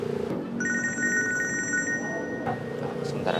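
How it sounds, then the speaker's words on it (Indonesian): A telephone rings with a steady electronic trill for about two seconds indoors during a police investigation scene, set against a low murmur of background noise. "Sebentar, ada telepon, Pak."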